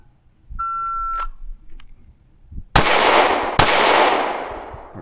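A shot timer beeps once, followed by two loud, sharp shots from a Canik Prime pistol about a second apart during a qualification shooting drill, each echoing briefly, with no talking.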